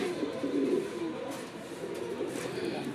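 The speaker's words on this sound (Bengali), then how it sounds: "প্রিয় দর্শক, এখানে হচ্ছে আরেক জোড়া কবুতর।" A pair of pigeons, a Chila male and a Kaldom female, coo softly and close by in a quiet space, with low rolling calls repeating over faint background noise.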